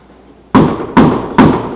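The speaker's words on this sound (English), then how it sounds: "Whence is that knocking?" Three loud, evenly spaced knocks on a door in a staged performance of Macbeth, booming close and alone against a quiet room.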